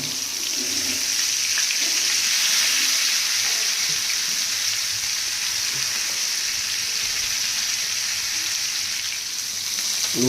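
Pomfret fish fries in a pan on low flame, giving a steady close sizzle and hiss that runs unbroken with faint crackles and no talk.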